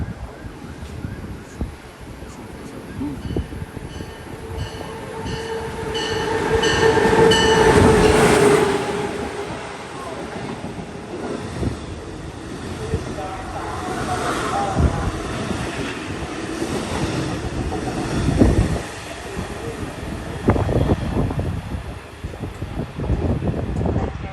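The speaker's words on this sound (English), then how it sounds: "A train is approaching. Please stand back from the yellow line." A New York subway train rumbles in and runs along the track, wheels squealing and clacking, with a steady loud roar and a faint announcement voice underneath.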